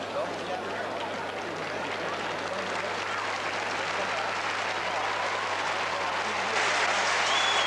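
A tennis crowd at the 1991 US Open applauding Monica Seles, sustained dense clapping that swells slightly near the end, with a commentator's voice running over it.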